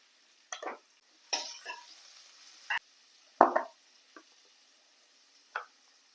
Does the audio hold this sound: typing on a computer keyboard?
no